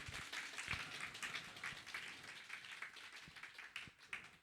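Scattered clapping from worshippers seated outside in the cold and dark at a church service, a thin, uneven patter of hands that stays moderately distant and steady throughout.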